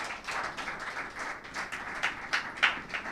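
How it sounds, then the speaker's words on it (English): Scattered, moderately faint applause from a small audience at a book launch in Ghana, with uneven individual claps swelling and dipping across a few seconds and no talking over it. "let's all give a hand of applause"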